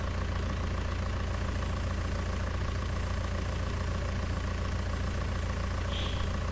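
Tractor engine in Farming Simulator 19 idling with a steady, continuous low rumble and even drone, close and unchanging throughout, with no talk.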